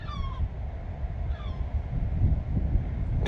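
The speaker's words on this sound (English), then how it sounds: "And there is the cat." A cat outdoors meows twice in short nasal calls, moderately near, over constant wind and low background rumble.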